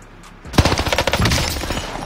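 Call of Duty Warzone gunfire breaks out after a quiet moment, a loud, close string of rapid shots and impacts lasting about a second and a half.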